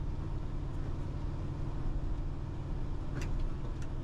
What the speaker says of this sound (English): Taking off, mild throttle again. Second gear.